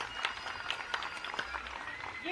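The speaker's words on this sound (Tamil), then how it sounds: "நாம எல்லாருமே சேர்ந்து ஒரு மிகப்பெரிய கைத்தட்டலை இங்க கொடுக்கணும்" A crowd applauding at a DMDK party political rally in Chennai, with steady, moderately loud clapping from many hands and scattered sharper claps standing out across the whole stretch.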